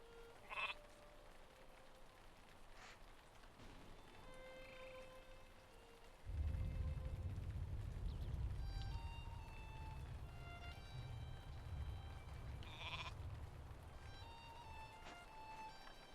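Sheep bleat in a video game, with several calls scattered across a steady backdrop of rain-like noise that grows louder partway through.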